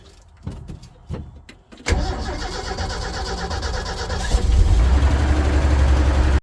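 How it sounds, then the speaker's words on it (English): A 1974 Ford engine cranks briefly and catches, then settles into a steady, loud idle that swells slightly toward the end; no one speaks. "Put this in neutral. Give that 2 pumps of gas. Turn the key."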